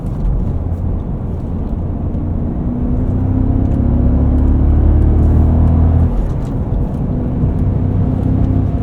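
A 2000 BMW M5 E39 accelerates in sport mode from highway cruising speed, its engine giving a steady, loud, continuous rumble with road and wind noise and no talk.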